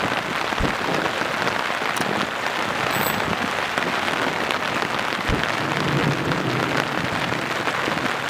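Heavy rain on a camp in the Montenegrin Dinaric Alps, a dense, steady patter drumming loudly and continuously, with a couple of brief dull thumps that may be distant thunder.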